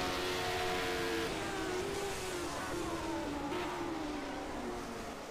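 Formula One cars from a 1974 race at Solitude run side by side down a long straight, a continuous loud engine roar with shifting pitch sustained throughout.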